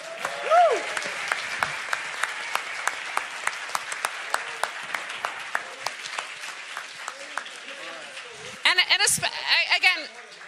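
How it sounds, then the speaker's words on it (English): An audience claps for a debate team at a Bitcoin versus gold debate, a crowd's applause with sharp individual claps, voices and a cheer mixed in, and louder vocal bursts near the end. "A round of applause for our team."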